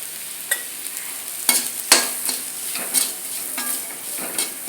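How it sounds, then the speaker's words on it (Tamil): Green chilli and grated coconut sautéing in a pan for a raw jackfruit stir-fry, a soft continuous sizzle broken by several sharp spatula scrapes and clinks, close and unaccompanied by speech. "பச்சை மிளகாய், தேங்காயை நல்லா வதக்கிக்கலாம்."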